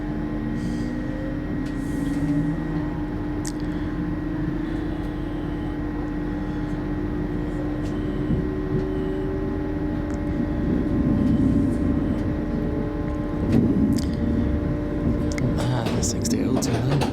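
An LNER Azuma train departs York station with a steady, heavy rumbling drone and sustained tonal whines that slowly shift in pitch, voices talking over it.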